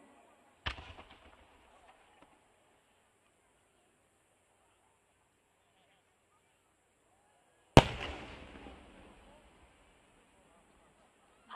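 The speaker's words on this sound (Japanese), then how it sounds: "8号割り物、 上り銀利き与え新変化肉、 全体で5層の同心円を描く菊型花火です。" A No. 8 chrysanthemum-type firework shell from Akita's Komatsu fireworks company bursts at a Fukuroi, Japan festival, two sharp booms several seconds apart, each followed by a crackling tail, with a third bang starting at the end.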